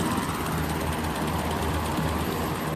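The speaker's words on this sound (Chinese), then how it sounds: "多架黑鹰直升机浩浩荡荡飞越菲律宾上空" Several Black Hawk military helicopters fly over the northern Philippines during a joint US-Philippine exercise, a steady dense rotor roar held at an even loudness throughout.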